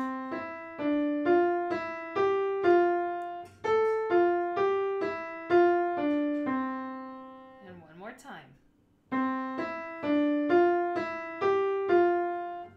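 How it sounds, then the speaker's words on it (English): A sung vocal exercise in thirds for level 2 voice technique, heard as a solo voice stepping through sustained notes in phrased groups, with a brief sliding sound midway and a short pause before the pattern resumes. "Number 3 is an exercise in thirds"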